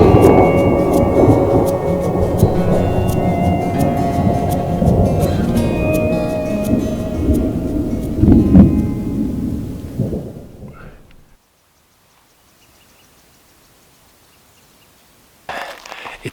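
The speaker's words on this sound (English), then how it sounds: "A lot of thunder going on behind me" Deep rolling thunder from an approaching storm in the High Sierra wilderness, rumbling loudly and continuously with rain patter before fading into near silence, then a brief rustle at the end.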